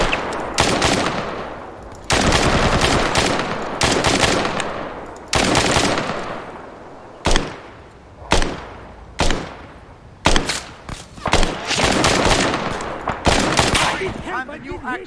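Heavy firefight gunfire in Arma 3: long bursts of rapid automatic fire give way to a series of sharp, separate shots with short pauses between them, loud and close.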